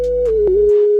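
A dry sine-wave synth lead with no chorus or reverb plays a short, loud, steady held melody note that slides slightly in pitch, over a sustained low bass tone, in a melodic plugg R&B beat.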